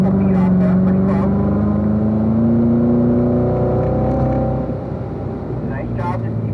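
A Corvette Z06 accelerating on a race track, heard from inside the cabin as a loud, rising engine drone through the gears, with a driving instructor talking over it.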